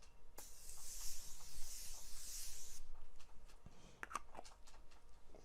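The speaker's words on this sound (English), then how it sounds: "we're going to spray this." Setting spray misted from a pump bottle in one long close hiss lasting about two and a half seconds, followed by soft rubbing and a few light handling taps.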